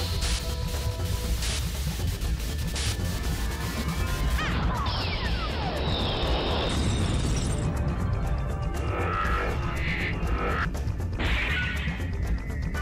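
Data Drain attack effect from the .Hack//Infection video game: a dense, continuous burst of crashing, whooshing synthetic noise with sweeping tones and glittering digital shards, loud throughout and with no talking.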